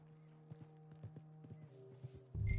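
Horse hooves clip-clop in Red Dead Redemption 2, a run of light, evenly paced hoof strikes close by over a low steady hum, ending in a sudden loud burst of noise.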